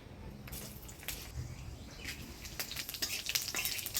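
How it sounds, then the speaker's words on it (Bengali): Dry red chili, bay leaf and whole cumin hitting hot oil in a pan, giving a soft crackling sizzle with scattered pops that grows busier and louder over a few seconds. "এবার ফোড়নে দিয়ে দিচ্ছি শুকনো লঙ্কা, তেজপাতা, গোটা জিরা"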